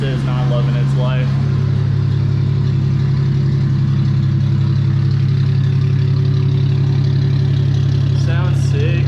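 A Toyota Aristo with a 1JZ engine and custom exhaust idles steadily with a deep, constant rumble, close by, while voices talk briefly at the start and end.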